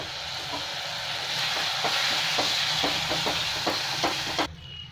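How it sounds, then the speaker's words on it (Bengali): Spice paste with cumin powder and a splash of water fries loudly in a pan, a steady close sizzle with faint regular stirring scrapes, cutting off abruptly near the end. "দিয়ে মশলাটা ভালো করে ভেজে নিচ্ছি।"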